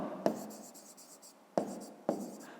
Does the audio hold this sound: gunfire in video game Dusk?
no